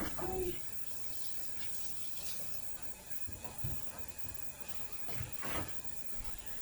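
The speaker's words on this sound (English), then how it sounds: "I'm going to rinse my hands." Hands are rinsed under a running kitchen tap, a soft steady hiss of water with a few louder splashes and clunks near the start and end, fairly quiet and without talking.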